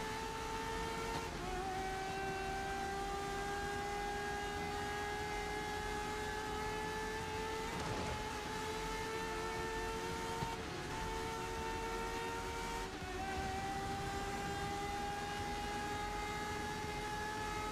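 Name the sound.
race car engine revving high in video game GRID Legends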